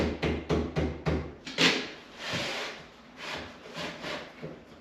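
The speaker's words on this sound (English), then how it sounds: "I'm just going to knock this lining forwards" Wooden door lining being knocked forwards during interior joinery, a series of dull thuds and knocks, rapid at first then spaced out, close and fairly loud.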